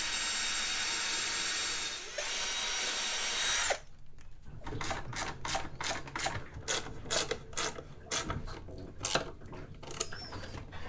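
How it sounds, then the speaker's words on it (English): A power drill whirs steadily for a few seconds, then a quick series of sharp mechanical clicks and taps follows, close by, aboard a boat. "So I'm just going to mark it first, and then I'm going to drill in."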